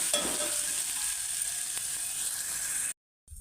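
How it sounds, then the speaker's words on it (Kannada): Green chili and ginger sizzle in hot oil in a pan, a steady crackling hiss that holds for about three seconds and then stops abruptly. "ಹಸಿಮೆಣಸು ಹಾಕೊಳ್ಳುವ ಶುಂಠಿ ಹಾಕೊಳ್ಳುವ ಎಲ್ಲ ಚೆನ್ನಾಗಿ ಹದವಾಗಿ ಎಣ್ಣೆಯಲ್ಲಿ ಫ್ರೈ ಹಾಕಬೇಕು"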